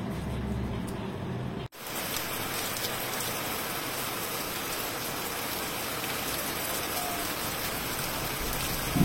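Steady, dense rain falls and patters on surfaces, a continuous broadband hiss that cuts in after a brief quieter moment near the start and then holds evenly.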